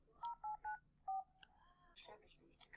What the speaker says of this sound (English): Please enter the PIN to verify your phone number.